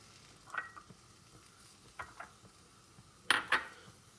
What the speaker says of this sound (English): So there's the kimchi in the frying pan.